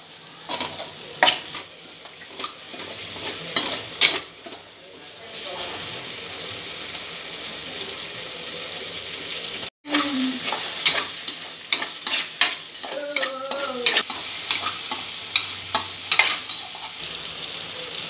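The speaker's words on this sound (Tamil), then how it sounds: "கறி மசாலா தூள், தக்காளி நல்லா வதக்கிக்கிறணும்." Tomatoes with chilli powder and curry masala sauté in a pan for mutton curry: a continuous close sizzle with repeated clinks and scrapes of stirring, a short dropout midway and a brief voice later.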